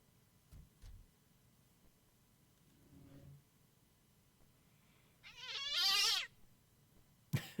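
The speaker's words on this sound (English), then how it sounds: "Now my kitty's just mad at me for some reason." A pet cat gives a short, drawn-out angry meow near the end, fairly close and clear, after long stretches of quiet room noise with a few faint bumps.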